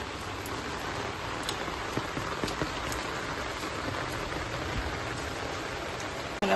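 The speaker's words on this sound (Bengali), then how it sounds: "কিরম জোরে বৃষ্টি পড়ছে" Heavy rain pours steadily onto surfaces, a dense, constant hiss of drops with scattered sharper splats throughout, no voices, ending in a brief louder knock.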